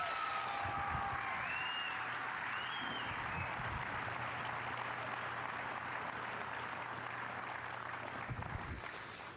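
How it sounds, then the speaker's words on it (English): Faint, distant applause for volunteers fills a livestock show ring, a steady wash of clapping heard from afar with a few whistles rising above it, holding evenly before tapering off. "I want the biggest round of applause today for all these volunteers that are inside and outside this ring"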